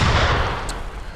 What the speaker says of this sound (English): I think I want to switch up from gunshots, man.